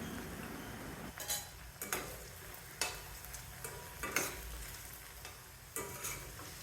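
Okra frying in hot oil for a South Indian poriyal side dish, a soft continuous sizzle broken by several sharp scraping stirs of a spoon against the pan, faint and steady with no talking.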